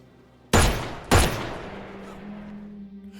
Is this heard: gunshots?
yes